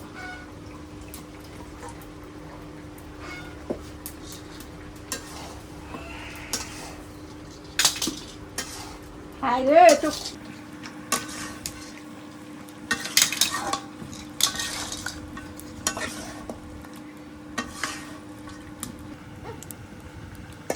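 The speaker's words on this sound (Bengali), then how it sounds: "মাংস আর কায়তা ভালো করে কষাই নিলাম" Goat meat and fried kayta being stirred in a pan, with intermittent scraping and clinking of a spoon against metal over a low background, the stirring strokes irregular and moderately close, with a brief voice.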